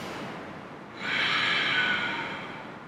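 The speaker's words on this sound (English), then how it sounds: "Take a practice breath" A single deep, airy breath is drawn close to the microphone during a tai chi class, rising suddenly and then easing off over about two seconds in a quiet room.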